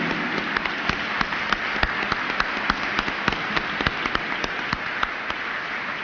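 Audience applause at an annual dinner award ceremony, a dense, even patter of many hands clapping at a moderate distance, with occasional sharper claps and no talking.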